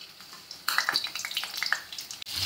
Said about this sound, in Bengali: এই পটলগুলো তেলে হালকা করে আমি ভেজে নেব।